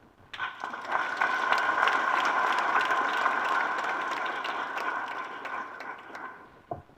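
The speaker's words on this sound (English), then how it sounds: "Give another round of applause to the Right Honorable Raila Odinga." At the launch of a trade expo in Nairobi, an audience breaks into applause after a speech, rising quickly into a sustained wash of clapping that fades out near the end.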